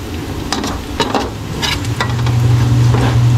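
Garlic and onion sautéing until golden brown for Filipino pancit palabok, a steady close sizzle that builds louder, with scattered scrapes and clinks of stirring in the pan.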